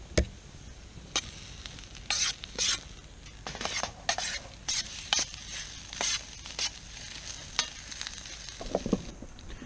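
Onions and peppers are stirred in a pan on a Littlbug Senior camp stove, giving a quiet sizzle under repeated short scraping strokes in an uneven rhythm, with no voices.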